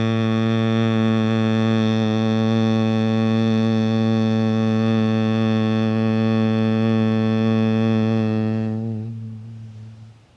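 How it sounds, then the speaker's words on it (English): A person hums steadily with the mouth closed in the bee-breath yoga practice, a single unbroken buzzing drone held for about nine seconds before fading out. "Humming with the mouth closed"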